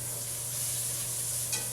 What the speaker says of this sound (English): But I'm gonna give them a little stir.